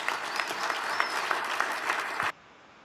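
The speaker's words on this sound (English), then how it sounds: "let's give Bill a warm round of applause" A warm round of applause from a symposium audience, steady dense clapping at moderate volume that stops abruptly near the end, leaving quiet room tone.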